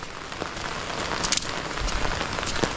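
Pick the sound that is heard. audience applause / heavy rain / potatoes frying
heavy rain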